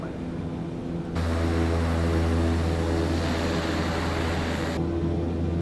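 A study-level turboprop airplane engine in a flight simulator game hums at a low idle, then jumps to a loud, steady drone with a broadband roar that holds for several seconds before dropping back.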